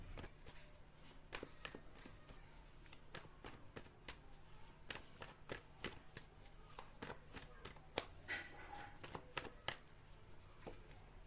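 Tarot cards are shuffled and drawn close up in a quiet room, a quick run of soft crisp flicks and taps in an uneven stream that bunches up near the end.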